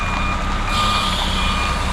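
A truck's reversing alarm beeps steadily at a construction site where a channel drain is being installed, its tone sounding over a constant loud engine rumble, with no voices.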